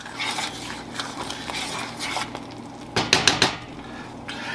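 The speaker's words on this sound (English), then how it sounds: "let it boil like that for 1 minute" Metal spoon clanking against a pot as apricot habanero jelly boils, with scraping and bubbling and a quick run of three louder knocks near the end, nearby and without talking.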